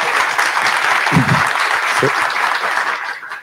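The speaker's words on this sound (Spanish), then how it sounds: "Yo creo que se merecen un aplauso, además, por la labor hecha" Loud, sustained applause from an audience, a dense clatter of clapping that fades slightly toward the end.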